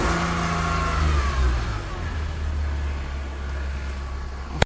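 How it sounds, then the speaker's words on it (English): A wrecked Toyota Land Cruiser engine with a faulty power steering pump runs without coolant, settling from a brief early rev into a steady, close, rumbling idle for the whole stretch, with no talk. "It's all pissed, but it's running. It's got a good idle."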